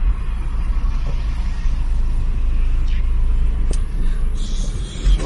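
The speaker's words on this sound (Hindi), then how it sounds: "गाड़ी अभी हम लोग चलाएंगे" A car on a test drive after repair in Nashik rumbles steadily from inside the cabin, a continuous low road and engine drone with a brief click, while people talk over it.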